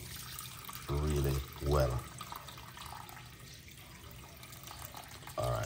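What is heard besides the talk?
tap water running slowly into a cup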